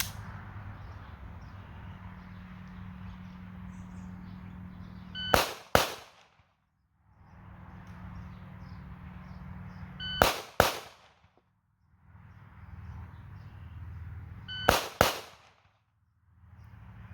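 A borrowed 2011 pistol fires sharp, loud double shots three times about five seconds apart, each pair echoing briefly over a soft steady outdoor hum.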